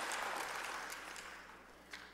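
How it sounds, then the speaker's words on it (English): Brief, fairly faint applause from a church gathering audience, a soft wash of clapping that fades out over a couple of seconds. "Let's give them a round of applause even though they're not here."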